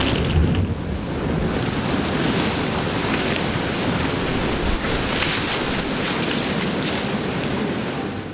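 A recreated 2004 tsunami tidal wave from the film The Impossible roars as a dense, continuous wash of crashing water and rushing wind, loud and steady throughout with no voices.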